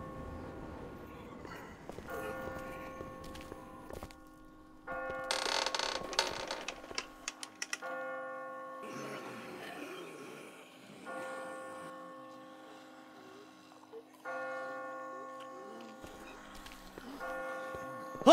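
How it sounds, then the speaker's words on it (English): Church bells ring in The Walking Dead game, sustained tolling tones that repeat in several spaced rounds, with creaks, footsteps and a rustling clatter of movement between them. "I just got spooked by those bells"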